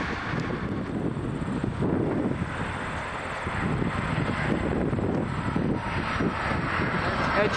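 An Air Canada airliner landing at Toronto Pearson gives off a steady jet engine roar mixed with heavy wind buffeting on the microphone, with voices talking faintly over it.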